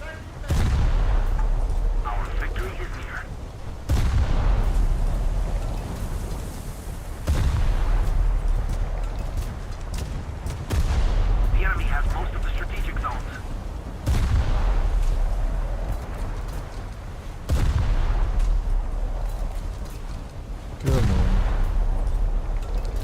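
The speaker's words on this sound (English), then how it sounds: "let's put our gunners on all targets" Ship gunners firing on targets in a naval video game set on the French coast, heavy booming salvos repeating roughly every three to four seconds, each with a rumbling tail, with talking heard between some shots.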